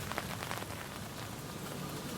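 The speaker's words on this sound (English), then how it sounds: "it looks like I've gotten about an inch of rain, and it still is raining." Steady rain falls on tarps set out to collect rainwater, an even hiss of drops close by with no voices.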